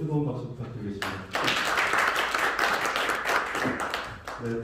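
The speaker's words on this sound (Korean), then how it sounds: "고생해주신 이사분들께 뜨거운 박수 부탁드리겠습니다" Loud applause from a crowd at a Korea Jokgu Association presidents' inauguration ceremony, a dense burst of clapping that starts abruptly after a brief spoken announcement and continues steadily, with a voice resuming at the end.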